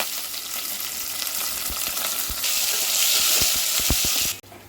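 Green chilies, onions and curry leaves fry in a hot pan for a bottle gourd curry, giving a loud, continuous sizzle. Soft thumps of stirring come through, and the hiss swells brighter midway before cutting off abruptly near the end.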